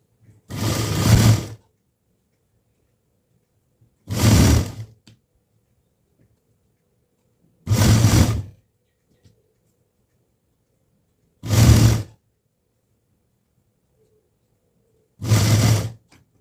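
A sewing machine stitching blouse lining in five short bursts of whirring motor, evenly spaced by quiet pauses of a few seconds, close and clear with no talking.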